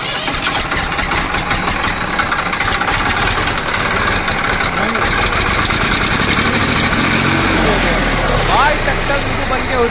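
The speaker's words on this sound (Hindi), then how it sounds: "ट्रैक्टर बन गया भैया जी" John Deere tractor diesel engine running after a repair for a fuel leak, a loud, close, steady rumbling idle that continues throughout with people talking over it.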